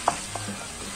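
A spiced filling is stirred in a frying pan, with a few scraping clicks of the spoon over a soft, steady sizzle, close and fairly quiet.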